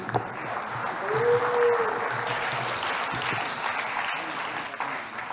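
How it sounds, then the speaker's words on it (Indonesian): A university graduation ceremony audience gives a broad, steady round of applause, many hands clapping together in a large hall, sustained throughout at moderate loudness with a brief vocal tone rising above it early on. "Tepuk tangan."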